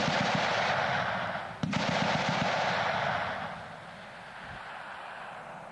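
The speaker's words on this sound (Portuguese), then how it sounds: "Este mesmo tiro da metralhadora .50" A Browning .50 caliber machine gun fires at a military recruit training range, heard from roughly 100 meters off: a loud, rapid burst of dense rattling shots for about three seconds, then a fading echo and a lone distant thump.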